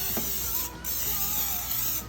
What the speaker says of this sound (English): take a 16x9 pan, spray that with cooking spray,